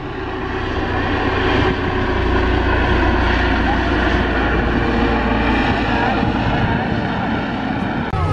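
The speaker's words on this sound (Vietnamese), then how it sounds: "phía bên trên bầu trời đó là cái chiếc trực thăng đang bay qua cái đồi Mâm Xôi này" A helicopter passes overhead above Mâm Xôi hill in Mù Cang Chải during festival season, its engine and rotors making a loud, steady, continuous drone that fills the whole stretch.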